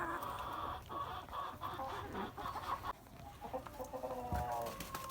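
Amrocks hens cluck softly in a coop, with several overlapping low clucks and murmurs and occasional shuffling, quiet and fairly close.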